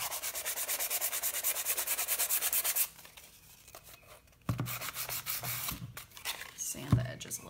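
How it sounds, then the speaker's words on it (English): Sandpaper rubs briskly along the edges of a craft piece in steady rhythmic strokes, close and clear, then stops, followed by softer handling noises and faint quiet talking. "I'm just going to sand."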